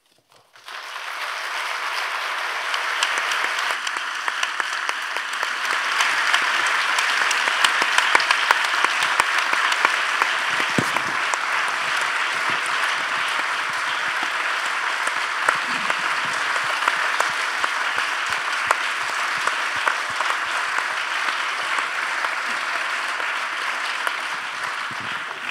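Lecture audience breaking into applause at the end of a talk on political emotions, a sudden swell of dense clapping that stays loud and steady for over twenty seconds, with only scattered faint voices.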